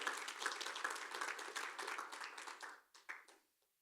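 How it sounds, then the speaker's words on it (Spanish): A church congregation applauds loudly in a sustained burst of dense clapping that thins out into a few scattered claps and fades to quiet near the end. "Dele un aplauso fuerte al Rey de Gloria."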